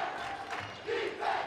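A high school student section cheering on its team's defense at a boys basketball game in Box Elder, a steady roar of crowd voices with swelling shouts.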